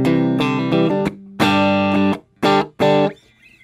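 Electric guitar chords ring through a clean amp preset modeled on a Dr. Z Route 66 (Line 6 Helix), several sustained strums followed by two short, punchy hits and a fading tail.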